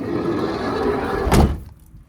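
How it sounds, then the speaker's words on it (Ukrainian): A door on a 2013 Renault Trafic Passenger Long van, 2.0 diesel, shuts with one solid, close thunk after a stretch of steady background noise, then things go quiet. "Дверки ходять класно, в ходу нічого не рипає, не гупає."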